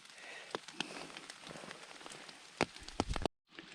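Rain patters on a surface in a forest with scattered sharp drops and a soft steady hiss, fairly close, ending abruptly.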